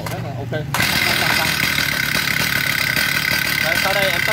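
A Stihl 034 chainsaw engine idles with a steady, buzzing drone after a brief quieter moment at the start, running continuously close by.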